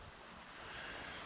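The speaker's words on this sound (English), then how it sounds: "I definitely hear water now." A moorland valley stream near Top Withens runs with a soft, steady broadband rush of water, faint and continuous.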